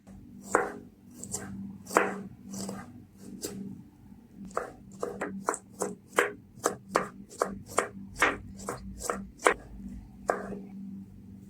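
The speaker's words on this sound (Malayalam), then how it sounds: "പിന്നെ ഈ ചെറിയ ഉള്ളിയും വെളുത്തുള്ളിയൊക്കെ ഒന്ന് കട്ട് ചെയ്തെടുക്കേ." Shallots and garlic are chopped on a board for a rice dish: a few spaced knife strikes, then a quicker, regular run of crisp chops, close and clear.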